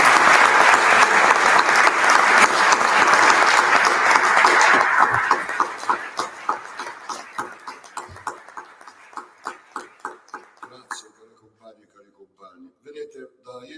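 Audience at an ANPI assembly gives a long ovation in memory of Luciano Guerzoni. Dense, loud clapping thins after about five seconds into slower, rhythmic unified claps that fade to a few isolated ones.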